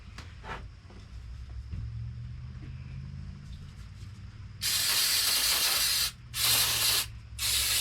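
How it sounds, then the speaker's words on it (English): Carbon and choke cleaner sprayed onto a Husqvarna 455 Rancher chainsaw during repair, three loud close hissing aerosol bursts in the second half, the first longest, after a quieter stretch of low background noise. "Yep, carbon choke cleaner."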